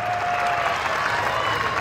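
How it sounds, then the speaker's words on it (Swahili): Crowd applause for Dr. Samia Suluhu Hassan at a political rally, a steady, dense wash of clapping that holds at even loudness for the whole short stretch, with faint voices mixed in. "Makofi kwa Dr. Samia Suluhu Hassan"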